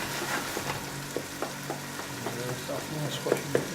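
Tomatoes frying in a pan for a masala fish curry, a soft steady sizzle with occasional stirring scrapes and taps throughout.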